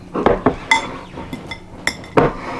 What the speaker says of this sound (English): we're just going to mash it up in a bowl so we can mix everything in nice and easy